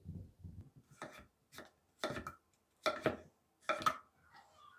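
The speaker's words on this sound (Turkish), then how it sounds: "Patatesleri elma dilim bir şekilde doğruyorum." A knife cuts firmly through potatoes into wedges in a series of separate, evenly spaced strokes, each ending with a board knock, in a quiet room.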